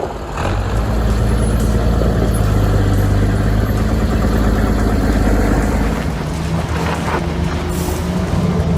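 A Mercedes-Benz truck engine runs steadily and loud throughout on a dangerous, challenging mountain route, a continuous low rumble with faint hissing and clanks over the top.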